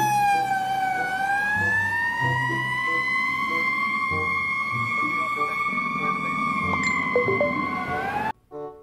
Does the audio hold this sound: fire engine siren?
yes